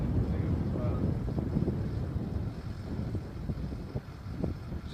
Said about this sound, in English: too windy to hear it this time.